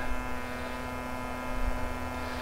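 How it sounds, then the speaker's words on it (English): A vacuum sealer machine runs while sealing meat, giving off a steady electric motor hum with a fixed drone that stays even and close throughout. "you'll hear it start the vacuum seal"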